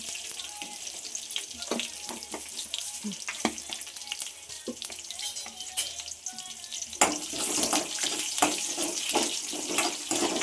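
Cumin seeds fry in a generous amount of coconut oil in a pan, a soft steady crackle and sizzle with light utensil taps, rising louder and hissier near the end, with no speech.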